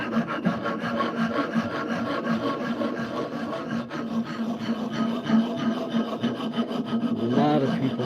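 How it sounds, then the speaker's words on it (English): A metal file rasps steadily across a wooden workpiece in close, loud repeated strokes, a continuous scratchy grinding that thickens near the end, with no talking. "Files this way on wood."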